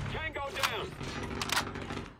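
Rapid gunshots from an OTs-9 submachine gun in a first-person shooter game, quick bursts under steady talk from a player commenting over the action.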